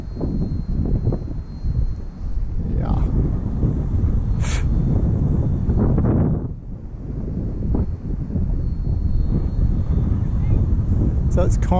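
Strong wind blowing outdoors at a model plane flying field, roaring and buffeting the microphone almost continuously and easing briefly near the middle, with people talking through it.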